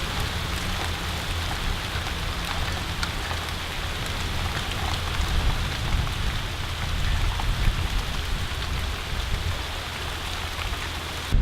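Steady rain falls outdoors on a travel day between Billings and Miles City, Montana, a dense continuous hiss of drops on surfaces with no voices, holding even and fairly loud throughout.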